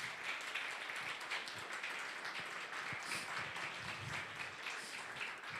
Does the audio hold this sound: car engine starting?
no